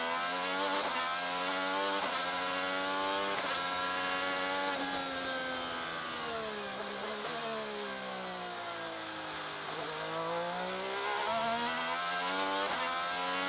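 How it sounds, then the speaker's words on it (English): A high-pitched IndyCar engine screams continuously on a straightaway at the St. Petersburg street race, its pitch climbing and dropping through gear shifts, heard steadily without any voices. "listen to the engine on Marcus Ericsson's car here"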